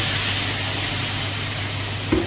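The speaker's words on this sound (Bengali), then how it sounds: "কড়াইয়ের উপর একটু পেঁয়াজ দিয়ে দিচ্ছি" Onion frying in oil in a kadai gives a steady, close sizzle that runs the whole time, with a brief stir or clatter near the end and no talking.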